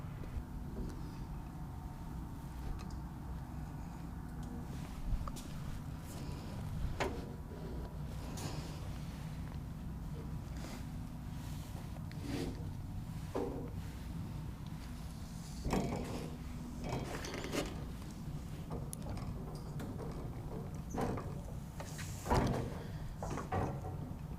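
A Harbor Freight 14.5 end-cabinet toolbox slides into steel tubing wrapped in tape, giving faint scrapes, soft knocks and sliding rubs spread over a low, steady background hum.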